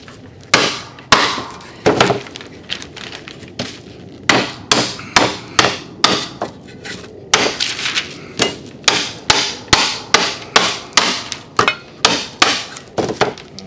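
Hammer blows strike an epoxy-primed metal panel to bend it in half, a long series of loud, sharp metallic impacts in a fairly regular rhythm, close by and with no talking.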